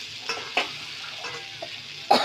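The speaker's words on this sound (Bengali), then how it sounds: "ভালো করে কষা" Vegetables with spices are stirred and fried in a pan for a bean, potato and tomato fish curry, giving a soft sizzle with a few sharp utensil scrapes and clicks.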